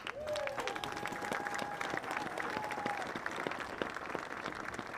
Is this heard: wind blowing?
no